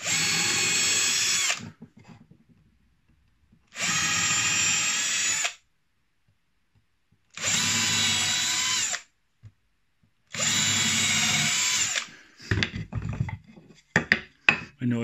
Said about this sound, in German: Ich bohre jetzt hier einfach mal drei Löcher vor.